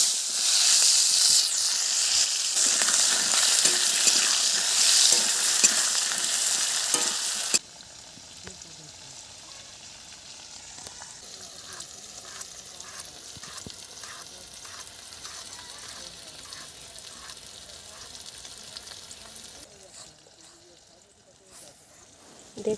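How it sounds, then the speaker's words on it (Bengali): Thinly sliced green tomatoes fry lightly in a pan, giving a loud, steady sizzle that drops abruptly to a quieter hiss, with faint scraping and a voice talking over it. "টমেটোটা হালকা করে ভেজে নেব।"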